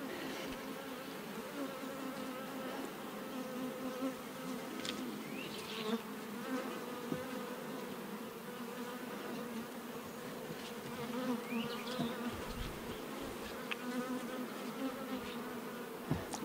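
Honeybees hum in a dense, steady drone close by around an open hive, with individual bees buzzing past now and then over the continuous swarm sound.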